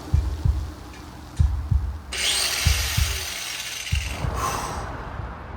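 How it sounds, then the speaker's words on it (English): An angle grinder cutting rusted scrap steel for a katana, starting after thumping knocks with a loud, hissing high-pitched grind in two bursts, heard up close. "I've never used an angle grinder before."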